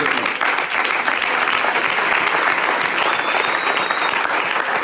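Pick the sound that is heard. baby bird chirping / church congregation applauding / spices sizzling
church congregation applauding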